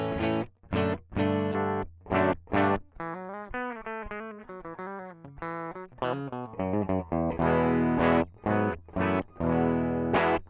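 An electric guitar plays through a cheap DI box cabinet simulator, giving a distorted, chorus-tinged tone with short strummed chords alternating with a melodic run of single notes, close and loud with no talking.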